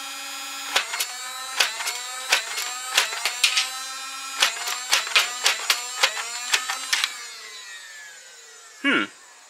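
A Nerf Minecraft Dungeons Sabrewing blaster fires Elite foam darts in a rapid string of sharp mechanical clacks over a steady motor whine, followed by a brief high squeal near the end.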